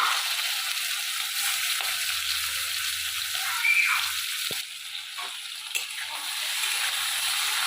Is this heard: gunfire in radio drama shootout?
no